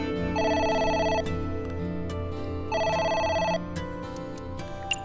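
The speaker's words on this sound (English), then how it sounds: "It's the phone. Maybe try picking it up?" A telephone rings in the video game AI: The Somnium Files. It gives two bursts of bright, rapid electronic trills, evenly spaced and clear, over a low background hum.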